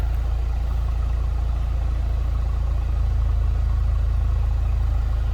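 A 2007 Saturn Sky Redline convertible, unmodified, idles steadily, heard from behind the car as an even, loud low rumble without revving or talk.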